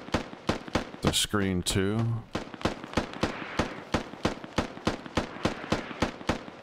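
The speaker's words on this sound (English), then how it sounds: "Smoke barrage. Oh, wow. Wow. That smoke is not for us." A smoke mortar barrage in a military shooter game sounds as a rapid, evenly spaced series of sharp, loud thuds and bangs, with a voice speaking briefly near the start.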